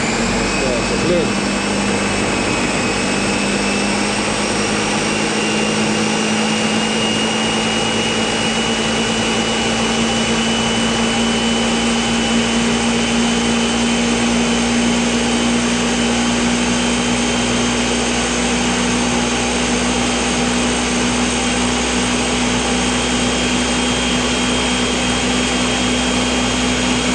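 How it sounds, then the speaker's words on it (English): A Ninja blender whirs steadily at high speed, grinding ginger root and water for Jamaican ginger beer, a loud constant motor drone with a faintly rising pitch and no breaks throughout. "Start to blend."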